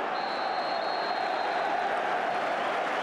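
Football stadium crowd applauding as the first half ends in a Sheffield Wednesday v Everton match, a dense, steady roar of clapping filling the ground at a constant loud level throughout, with a thin high tone running faintly above.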